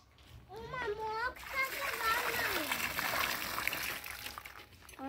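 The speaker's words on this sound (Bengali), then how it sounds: "এই গাছটা একটু জল দিতে গাছে তো জল একটু চেঞ্জ করতে হবে" Water splashing and trickling as it is poured into dried-out potted plants, a steady close splatter running under a voice and other talk.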